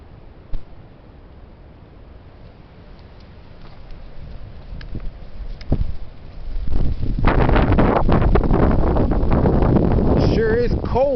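Strong wind gusting outdoors in cold weather, starting as a low steady rumble and building into loud, buffeting blasts against the microphone for the second half.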